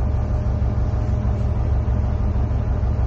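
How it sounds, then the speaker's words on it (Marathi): A tour boat engine on a cruise through Waimangu Volcanic Valley, New Zealand, gives a loud, steady low drone close by, with constant rumble and no voices. "तनिष्का आता ड्राइव करते अपनी बोट"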